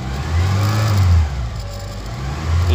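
A 1989 Ford Ranger pickup whose engine stalls when accelerating is revved up close by. Its low engine drone rises and falls in two swells, with no talk over it.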